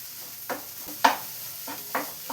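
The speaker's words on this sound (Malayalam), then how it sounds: "ഇനി നമുക്ക് എല്ലാം കൂടെ ഒന്ന് മിക്സ് ചെയ്ത് കൊടുക്കാം." A spatula scrapes and pushes egg and horse gram stir-fry around a hot pan. A few separate strokes sound over a soft, steady sizzle, close by.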